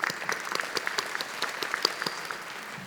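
An audience at a commencement ceremony applauds with a dense, even patter of clapping, moderately loud and steady throughout, with no voices over it.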